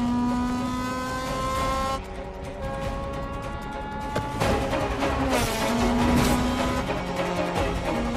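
A race car pushed hard through a fast lap, its engine roaring and revving with rising and falling pitch and gear changes, loud and close throughout with no talk.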